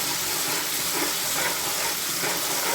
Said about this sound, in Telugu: చింతపండు రసము ఇందులో ఆయిల్లో చక్కగా వేగనివ్వాలి చూడండి చక్కగా వేగుతుంది